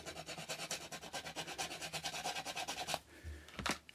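An emery board sands a small HO scale model part in quick, steady rasping strokes, close and fairly loud, before the scraping stops with a few scattered scuffs at the end.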